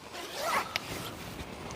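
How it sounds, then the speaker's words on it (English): A zipper slides along the mesh door of a budget winter hot tent, a short close rasping run with a small click partway, heard alone and fairly quiet. "So you've got a couple of zips."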